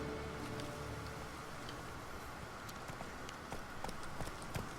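Horse hooves clip-clopping in The Witcher 3 after the horse is summoned, a light rhythmic patter of steps heard over a steady ambient game background, fairly faint and with no talking.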